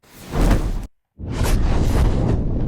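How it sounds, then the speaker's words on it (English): Two rushing whoosh effects for designing fierce fire sounds: a short swelling sweep that cuts off abruptly, a brief silence, then a longer, louder broadband rush with airy movement, heard alone. "Let's just look for some whooshes here."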